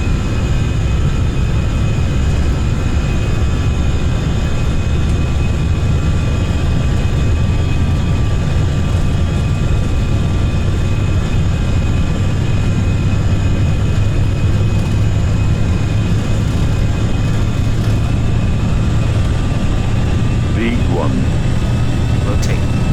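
Airliner engines roaring steadily at high power during the takeoff roll of a Munich to Madrid test flight, a loud continuous low rumble with a faint tonal whine throughout.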